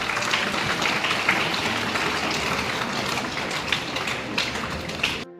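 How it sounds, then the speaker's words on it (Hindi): Applause from a school audience, a dense, steady clatter of many hands clapping together for several seconds before stopping abruptly. "इसके लिए आप जोरदार ताली बजाइए एक बार।"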